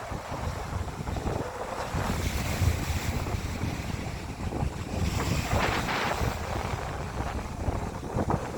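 Steady north wind by the sea in autumn roars and buffets the microphone, with a low rumbling wash that swells and eases throughout, and no voices.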